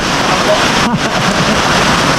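Loud, dense rain from a typhoon pours steadily across the whole stretch as a continuous broadband hiss, with a voice speaking over it.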